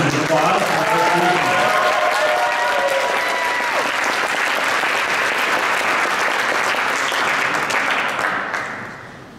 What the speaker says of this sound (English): Give this great group a round of applause